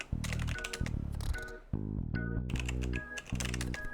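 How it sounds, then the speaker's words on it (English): Rapid keyboard-style typing in the video game Frog Fractions, quick clattering taps in bursts layered over bright chiming game tones, steady and close, with a brief pause midway and no talk. "Typing is getting pretty serious, I have to say."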